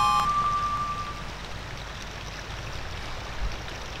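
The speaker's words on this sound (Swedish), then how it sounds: "Oh, vattenfallet splittar sig igen." Rushing waterfall in the Zelda: Ocarina of Time video game, a steady broadband water roar heard alone and without break, with a brief tonal chime at the very start.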